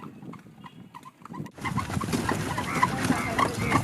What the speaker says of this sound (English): the most famous and iconic way of getting around town is by horse cart